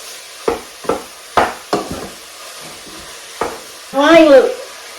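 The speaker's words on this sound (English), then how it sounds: "I'm just going to fry, to brown them for a little bit" Food browns in a frying pan, with a low sizzle under several sharp stirring scrapes and clinks and a brief voice near the end.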